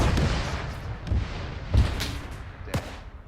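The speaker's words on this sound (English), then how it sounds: "Cannon fire, Panzer!" Tank cannon fire in a World War II video game booms in heavy, deep thuds over continuous low rumble, with a couple of sharper cracks standing out near the middle and toward the end.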